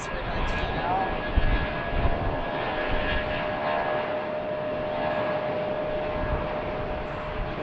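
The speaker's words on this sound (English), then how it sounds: "There's the American A319 out." An American Airlines Airbus A319 jet departs BWI airport on an afternoon, giving a steady, loud broadband engine roar with a thin sustained whine that holds for the whole stretch.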